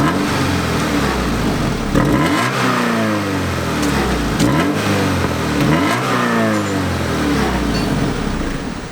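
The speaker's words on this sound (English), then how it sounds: "I'm gonna turn it on right now, give it a couple revs" A Honda Civic fitted with a new aftermarket exhaust is revved hard several times, each rise and fall of the engine pitch loud and close over a raspy idle, with no talking.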